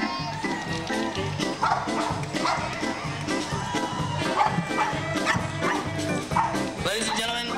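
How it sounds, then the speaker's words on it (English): A performing dog yips, barks and whimpers repeatedly on stage at a New Year's 1998/99 show, the excited calls close and loud over an announcer's voice and crowd noise. "Ladies and gentlemen, I'd like to introduce you to Dammit the Amazing Wonder Dog"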